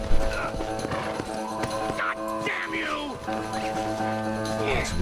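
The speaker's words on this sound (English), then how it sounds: "Give me that horse." Horse hooves clip-clopping with a brief whinny in the Red Dead Redemption video game, heard under steady game music and ambient sound throughout.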